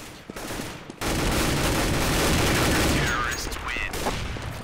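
An automatic rifle fires a long, controlled spray in the video game CS:GO. The burst is loud and continuous, with dense rapid shots running for several seconds after a brief quieter moment.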